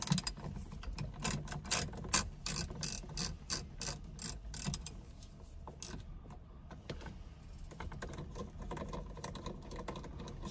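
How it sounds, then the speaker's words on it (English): Quiet, rapid clicking of a ratchet turning a T30 Torx bit as it backs out an airbag screw in an Acura NSX steering wheel, in uneven bursts with brief pauses. "carefully remove this with the ratchet."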